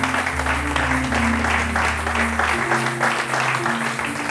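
Church congregation applauding, a steady dense wash of clapping at even loudness throughout, with sustained low organ or keyboard tones underneath.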